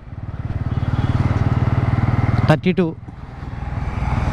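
A Bajaj Pulsar N160 motorcycle engine runs steadily in fifth gear, a close, continuous low throb with a fast even pulse, and someone talks briefly over it partway through.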